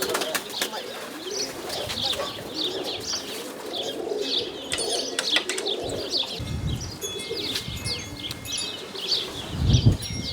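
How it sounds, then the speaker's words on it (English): A roller pigeon hen cooing in soft repeated phrases close by, joined by chirps from other birds and a brief flutter of wings near the end, with no talking. "this is my favourite, well, my favourite roller pigeon"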